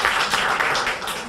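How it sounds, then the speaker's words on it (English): Applause from the audience at a city council regular meeting, a dense, steady patter of many hands clapping close by for just over a second. "So, if we can have a round of applause, please."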